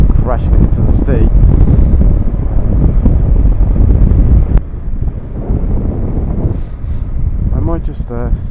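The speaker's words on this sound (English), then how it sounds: "It is quite windy though." Strong wind buffets the microphone on the coast at the Valley of the Rocks, a loud, continuous roar with low rumbling gusts that ease slightly partway through. A few brief bird calls rise above it.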